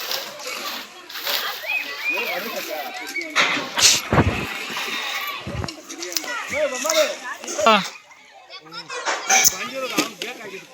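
Water splashing and sloshing as buckets scoop water from a lake during a wedding ritual, repeated close splashes under continuous lively talk from several people outdoors.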